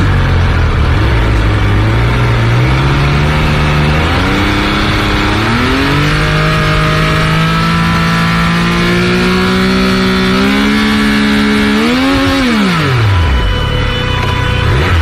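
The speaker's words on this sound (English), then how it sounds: "Let's listen to the sound of the bike that is 1160cc." A Triumph Speed Triple 1200 motorcycle's 1160cc three-cylinder engine revs repeatedly, pitch climbing in stages to a high roar before dropping sharply near the end; loud and close, no talking.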